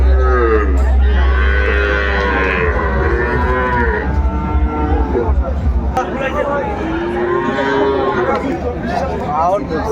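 Sahiwal cattle low in long, drawn-out moos at a crowded cattle market, loud and close, with several overlapping calls over a constant babble of people talking.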